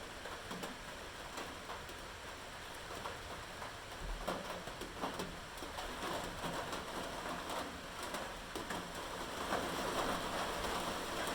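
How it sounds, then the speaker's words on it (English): Steady, dense, heavy rain pours down throughout, a continuous hiss with scattered patters and drips, fairly loud and unbroken, with no voices. "it's raining too hard"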